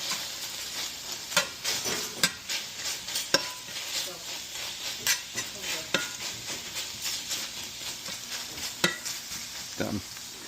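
Philly cheesesteak meat searing in a pan at home, a steady close sizzle punctuated by repeated sharp clacks and scrapes of a spatula flipping and chopping the meat.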